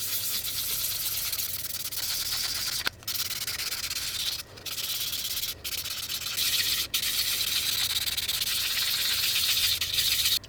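Resin is rubbed with 1000 grit sandpaper in a steady, close scratching hiss, broken by a few brief pauses between strokes, with no voices.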